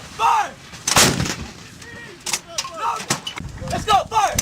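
U.S. Marines fire shoulder-fired weapons in training: sharp, loud booming shots, one near the start and several scattered later, with shouted voices between them.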